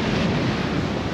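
Turbulent, churning seawater where a tidal current reverses direction gives a dense, loud roar of surf mixed with heavy wind buffeting, continuous and close, with no speech.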